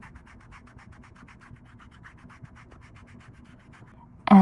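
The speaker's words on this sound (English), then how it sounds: "you want to do a little bit of foot filing. So I just use this and go along this line." A foot file rasps across the foot during a pedicure in a quick, even series of soft, close scraping strokes, ending with a sharp louder knock.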